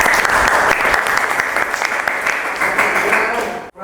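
A classroom of students claps together in a steady, dense burst of applause, loud and close, continuing for several seconds before cutting off abruptly near the end.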